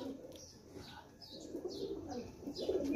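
Pigeons coo steadily at a Dubai pigeon club, with soft repeated calls and a few higher chirps overlapping at close range throughout.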